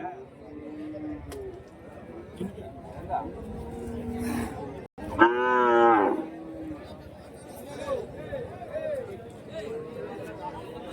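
Calves lowing at a Friday livestock market in Kundarapalli, Krishnagiri district, with one loud, drawn-out moo standing out near the middle amid steady crowd chatter and market bustle.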